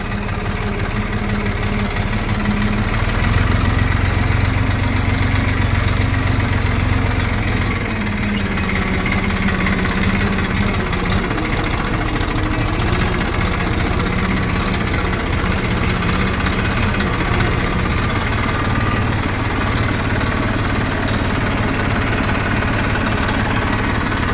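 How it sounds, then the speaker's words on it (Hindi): A Mahindra 65 tractor engine idling, a loud, continuous low rumble with a rough chugging texture that holds steady throughout, close by and with no talking. "अपना ट्रैक्टर लेकर, ये रहा महिंद्रा का 65"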